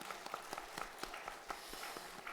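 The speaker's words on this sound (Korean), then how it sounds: "성가대를 위해서 박수 한번 하겠습니다." A church congregation claps for the choir during an Easter Sunday worship service. The claps come as a brisk, rhythmic patter that stays fairly soft and even throughout.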